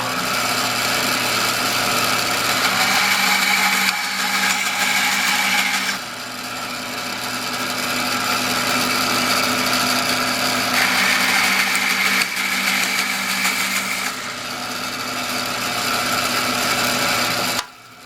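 A power tool whines through a wooden pen blank of alder cone in two long cutting passes, a steady loud motor hum that rises and strains during each cut, with no talking.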